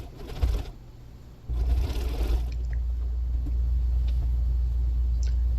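A sewing machine zigzag stitching seams on a bag made from jeans, running in short bursts and then a steady droning hum with motor rumble, close and alone.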